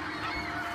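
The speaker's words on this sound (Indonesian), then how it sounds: "mereka berdua mendengar dan melihat burung-burung yang sedang imigrasi massal" A flock of migrating geese honks in a film scene, a dense, loud burst of overlapping calls lasting under a second.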